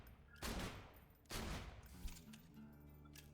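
Two heavy blasts from a Hyperion shotgun in Borderlands 2, each a broad booming shot with a short decaying tail, spaced about a second apart, followed by quieter game sounds.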